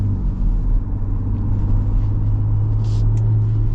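A 2025 Ford Ranger Raptor pickup truck driving in sport mode gives a loud, steady low engine rumble heard from inside the cabin, with no talk.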